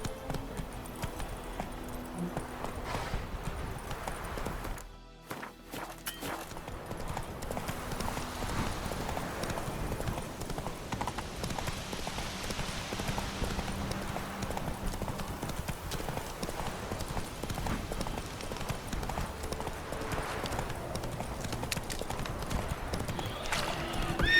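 Roach the horse galloping in The Witcher 3, a fast steady clip-clop of hooves running continuously, loud and close, with a short break early on and a faint whinny.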